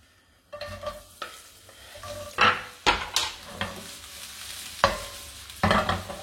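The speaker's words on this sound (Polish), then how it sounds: "Wrzucamy do podsmażenia cebulę." Sliced onion fries in two spoonfuls of hot oil in a skillet, a soft sizzle broken by repeated scraping stirs and clinks of a utensil against the pan at an uneven pace.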